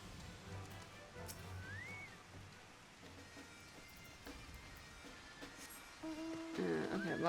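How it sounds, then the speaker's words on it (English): Light rain falling in Final Fantasy XIV, a soft continuous patter in the game's ambience, joined by faint tonal game sounds and a louder chiming effect near the end. "Okay, well, it's raining now."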